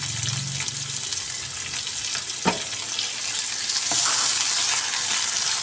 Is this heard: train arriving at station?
no